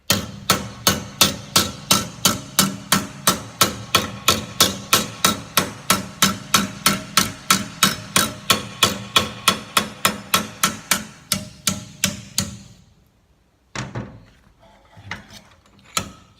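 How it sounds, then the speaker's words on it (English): A hammer strikes sheet metal clamped in a vise to form a fold: a fast, steady run of sharp metallic blows, close and loud, that stops near the end, followed by a few scattered knocks. "So now I can start hitting closer to the new fold."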